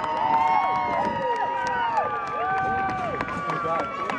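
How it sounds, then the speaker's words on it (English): Crowd of spectators at a medieval fair joust cheering for a knight, a loud, sustained roar of voices and shouts with scattered clapping, filling the whole stretch at even strength. "Oh, come on, you guys over here can cheer too."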